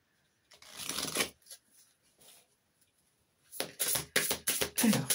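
Tarot cards are shuffled by hand in two bursts, a longer riffling flutter at first, then after a quiet pause a series of quick, crisp shuffling strokes, close up with no talking.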